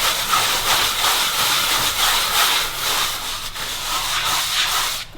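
Trowel scraping render mix upward onto a mudbrick wall, a steady gritty rasp in repeated strokes, close and moderately loud with no voices.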